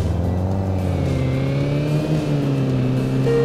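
A Volkswagen Golf GTI four-door engine in the City Car Driving game, droning steadily at high revs with a smooth rising and falling pitch, loud and continuous with no talk.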